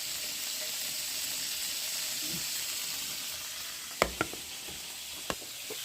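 Prawns frying in hot oil for a Kerala-style prawn roast, a steady bright sizzle throughout, broken near the end by a few sharp utensil clicks, close and with no talk.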